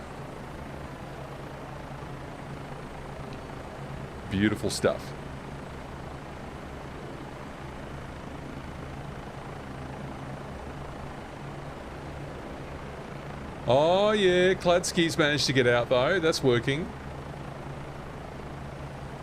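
A Bo 105 helicopter in a flight simulator, its rotor and engine a steady low droning hum throughout, while someone briefly talks over it twice.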